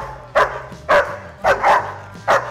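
A personal protection dog barks five times in sharp, loud, evenly spaced barks, close by and with no talking between them.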